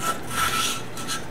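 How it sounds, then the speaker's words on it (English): A cordless drill spins a cylinder hone inside a 1973 Honda CB750 motorcycle cylinder, giving a close, continuous abrasive rasping with a faint whine under it and a gently wavering rhythm. "I've got this chucked up in a cordless drill. It's just going to spin like that."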